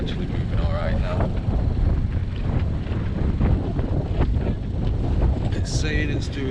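Sailboat moving through the Mediterranean Sea at night, a constant rush of wind and water noise buffeting the microphone, loud and steady throughout, with a few faint higher chirps near the end.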